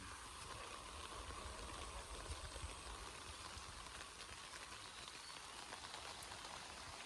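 Steady rain pours down during an outdoor search for durians, a dense continuous hiss of drops on leaves and surfaces that holds even and loud throughout with no voices.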